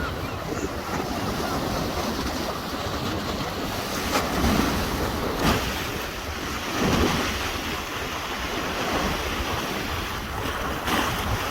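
Sea waves roll in along the Blackpool seafront, a constant broad wash of surf mixed with heavy wind buffeting the microphone and a few swelling surges, with no talking.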